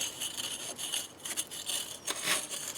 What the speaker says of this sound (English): I'll go over with the point and just roughen all the surface gently